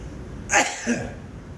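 One sharp, close sneeze bursts out, followed a moment later by a short, softer exhale, against a quiet background.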